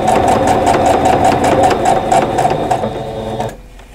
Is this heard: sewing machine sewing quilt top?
yes